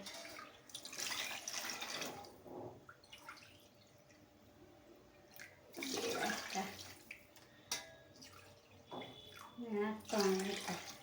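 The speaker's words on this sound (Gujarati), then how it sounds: "હવે આપણે આ 1 વાટકો સાંબો લીધો તો એ આપણે નાખી દેવાનું, એનું 3 ગણું પાણી નાખવાનું।" Water pours into a pot of sama rice in bursts, splashing and trickling at close range, alternating with stretches of talking.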